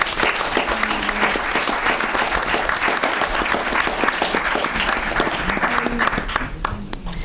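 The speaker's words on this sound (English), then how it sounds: "Can we have a round of applause for the panelists?" An audience at a public forum on racial disparity in Vermont schools applauds the panelists, with sustained, steady clapping and a few faint voices underneath that taper off near the end.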